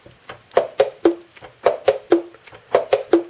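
Saxophone keys on a horn with firmly regulated key fit and pads snap shut in quick clusters of two or three crisp, hollow pad slaps, close and dry with short pauses between groups.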